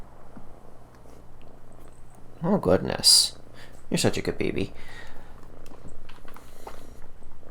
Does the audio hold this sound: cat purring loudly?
yes